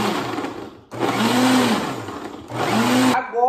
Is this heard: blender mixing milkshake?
yes